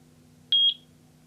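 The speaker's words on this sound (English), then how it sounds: "there's a beep and you see the LED here is blinking" A Eufy security camera gives a single short, high electronic beep when its sync button is held, clean and close against a faint low hum, with no talk.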